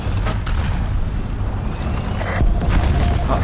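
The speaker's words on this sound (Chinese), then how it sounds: "好，这一台都爆炸了，" A tank explodes in the video game War Thunder, with booming blasts and rumbling impacts that peak near the end of the brief stretch.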